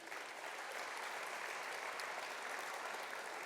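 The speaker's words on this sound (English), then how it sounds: "So a round of applause for them." Sustained applause from a conference audience for education award nominees, steady and even throughout, a dense wash of many hands at moderate distance with no voices over it.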